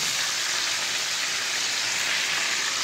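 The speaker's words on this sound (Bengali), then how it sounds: "এখন আমি আলুগুলোকে ভেজে নিব।" Potatoes rubbed with salt and zarda food colouring fry in hot oil for chicken biryani, giving a steady, dense sizzle that holds without a break. No one speaks.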